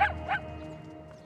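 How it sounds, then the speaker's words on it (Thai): A dog in a Chinese palace drama gives two quick, close barks in a row, then falls silent against quiet background hum. "สุนัขตัวโปรดของเกากุ้ยเฟย"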